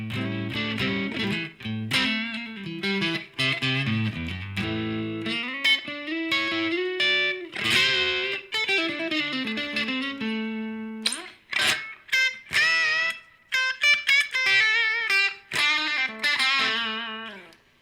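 Electric guitar with light, low-gain overdrive plays a busy run of notes and chords, slightly gritty and close, with brief gaps between phrases.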